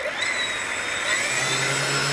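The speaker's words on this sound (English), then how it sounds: "Here we go, engine start." Electric ducted fan engines of an RC Convair CV-880 model airliner spool up in a steady, loud whine with a rising high-pitched tone and airy rush, close and continuous with no talk.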